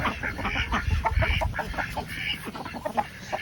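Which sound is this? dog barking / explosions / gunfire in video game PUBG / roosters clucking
roosters clucking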